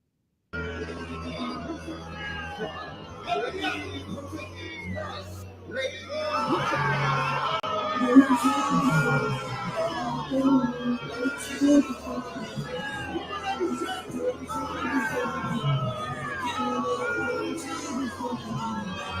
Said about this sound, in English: But you see how he got booed?